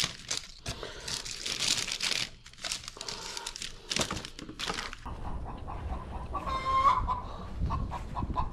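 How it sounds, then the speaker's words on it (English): A hen clucks in short bursts close by, mixed with rustling and crinkling movement, then a drawn-out squawk near the end. "Sometimes you get a chicken who thinks she wants to be out."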